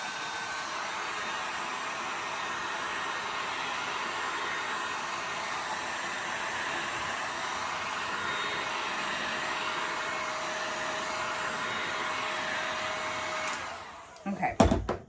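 Heat tool blowing over the top of a soy wax candle to soften it, a steady loud airy roar held for about fourteen seconds before clicking off, close by and without speech.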